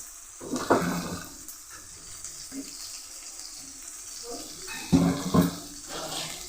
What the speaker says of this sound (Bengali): জল দিয়ে গুলিয়ে নিলাম